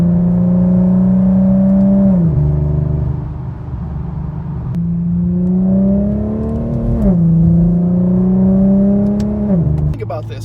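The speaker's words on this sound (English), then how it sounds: "The 7-speed auto is shifting faster than most people shift anyway." Infiniti Q50 with a 7-speed automatic accelerates hard, engine note climbing then dropping at each quick upshift, repeated several times in a loud, close, steady pull.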